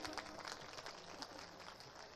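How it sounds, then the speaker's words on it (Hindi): An audience at a mushaira poetry gathering in Bihar claps, a dense patter of many hands heard at a distance and fairly quiet, with faint voices beneath. "एक बार ताली बजा दें आप सब।"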